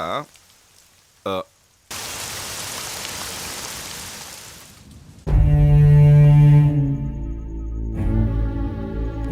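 Rain pours in a dense, steady wash for a few seconds after some brief clicks, then gives way to loud music.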